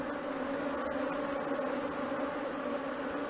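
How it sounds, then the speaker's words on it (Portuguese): A swarm of Apis honeybees buzzes in a dense, continuous drone, close and steady throughout with no pauses and no voices. "Porque pelo fluxo de abelha aqui."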